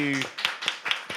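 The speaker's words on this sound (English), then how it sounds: "Round of applause for Brian." A few distinct hand claps for Brian on an election-night broadcast set, about four sharp evenly spaced slaps right after a voice.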